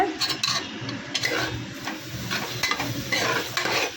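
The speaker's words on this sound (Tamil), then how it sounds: "இப்போ நல்லா கிளறி விடுங்க" Biryani masala mixed with yogurt is stirred in a pot for a seeraga samba mutton biryani, producing continuous scraping and clinking of a spoon against metal with a soft sizzle underneath, close and busy, with no talking.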